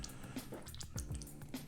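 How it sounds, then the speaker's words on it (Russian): Water dripping onto a sharpening stone used for honing cuticle nippers, small soft drips and light wet squishes over steady background noise. "вот таким вот образом капаем на камушек воду"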